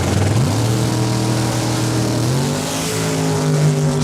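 A Chevrolet Camaro makes a drag-racing run at Saskatchewan International Raceway. Its engine roars loud and continuous, the pitch rising in steps as it shifts, with no voices over it.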